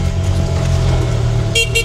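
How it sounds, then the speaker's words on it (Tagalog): A car horn honks twice in short bursts near the end, over a steady low engine rumble from a tuk-tuk on a steep road. "Busina."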